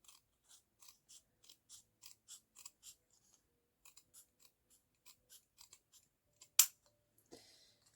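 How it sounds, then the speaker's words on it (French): Scissors cutting paper, a quiet run of crisp evenly spaced snips close by, ending with one sharper louder cut and a faint rustle. "je vais découper le nom de ma ligne. Pas besoin de prendre du massicot pour ça."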